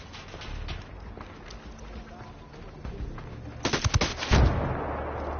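Gunfire in Ghost Recon Wildlands, with scattered faint shots building into a louder cluster of rapid bursts near the end over a low rumbling background.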